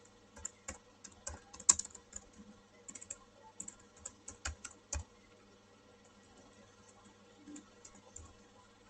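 Steady clicking keystrokes on a computer keyboard as data is entered, an irregular close run of taps with brief pauses, quiet and alone.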